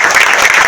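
An audience claps steadily at an indoor devotional gathering for a flag-hoisting and housewarming ceremony, a dense, continuous wash of many hands sustained evenly throughout.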